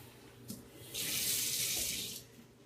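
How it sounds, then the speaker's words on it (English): Water runs from a kitchen tap into a pot to boil eggs: a short, steady, close rushing gush that starts abruptly and stops about a second later, framed by faint clinks of the pot. "let me just put a little bit of water in here and actually fill it up"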